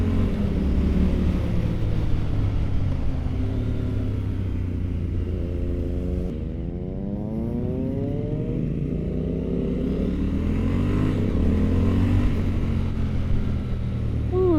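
A Triumph Scrambler 1200 motorcycle engine rumbles loudly throughout while riding, with deep steady throb and rising-falling revs as the throttle is worked, close and continuous without talk.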